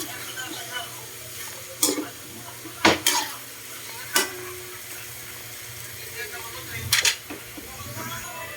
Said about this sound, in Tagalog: Siyempre, halu-haluin lang natin para pantay naman yung luto.